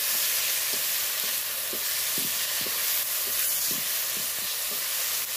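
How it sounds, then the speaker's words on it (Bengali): Masala and grated tomato sautéing in a pan under a dense, steady sizzle, with a regular series of soft scraping strokes as a spoon stirs the mixture. "মশলার সাথে টমেটোটাও ভালো করে কষিয়ে নেব।"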